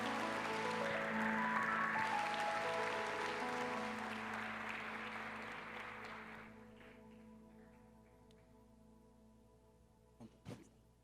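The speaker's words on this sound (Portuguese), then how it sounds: "com um forte aplauso a Jesus" Applause from a church congregation welcoming a pastor, a loud sustained clapping wash for about six seconds that then fades to quiet, with a couple of faint thumps near the end.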